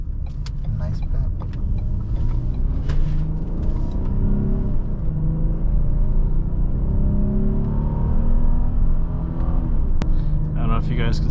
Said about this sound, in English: We'll do a quick acceleration test here